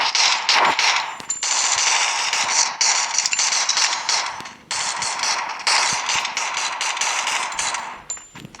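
Video game gunfire rattles in rapid, loud automatic bursts, broken by brief pauses and punctuated by metallic clanks.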